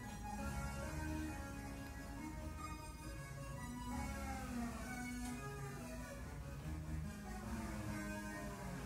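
A modular synth patch plays alone, with a Plaits oscillator's aux output gated by OR logic, giving a busy, steady stream of overlapping melodic notes in a dense, continuous texture at low level.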